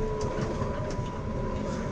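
A Merlo telehandler with cab suspension rolls over a very bumpy yard road, heard from inside the cab as a loud, steady engine drone with rattling and faint rhythmic clunks from the uneven surface.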